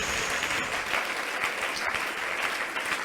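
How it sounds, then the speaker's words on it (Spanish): A church congregation applauding during a sermon, steady dense clapping at moderate distance with no speech over it. "Dele el aplauso al Señor."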